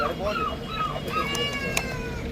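A kitten mews several times in short, rising cries amid steady background noise, with a voice talking in the background.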